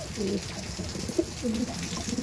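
Madras pigeons at a loft in Park Circus cooing nearby, with several soft low coo phrases in a row and faint background noise.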